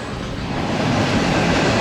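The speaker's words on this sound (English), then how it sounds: "as soon as I start recording, there's a train" A train rolls past close by at a lake near Jasper, a steady loud rumble of rail cars and wheels that builds slightly and holds for the whole stretch, with no voices.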